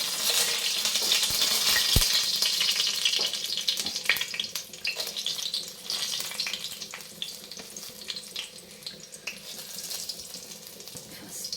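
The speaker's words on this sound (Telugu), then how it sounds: "సో మనం ఫస్ట్ ఏం చేద్దామంటే ఫస్ట్ ఎండుమిర్చి వేద్దాం" Dried red chillies hit hot oil in a pan with a sustained, fairly loud sizzle and crackle close by. The sizzle slowly thins into scattered pops, and no voice can be heard.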